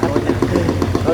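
Engine room of a phinisi ship docked in port, a loud, steady diesel thrum with a regular chugging pulse, close and dominant throughout.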